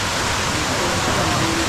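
Strong rushing water from a spring, a dense, constant roar of flowing water with no breaks, loud and close.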